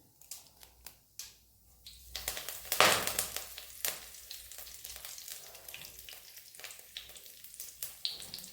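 Curry leaves dropped into hot oil with urad dal, a sharp burst of spattering sizzle that swells then settles into crackling pops and stirring scrapes, close and fairly quiet, no one speaking.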